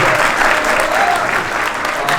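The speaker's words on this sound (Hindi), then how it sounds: "जोरदार तालियों के साथ स्वागत करें।" A crowd at a defence academy cultural fest applauds loudly, a brief dense burst of clapping with faint voices mixed in.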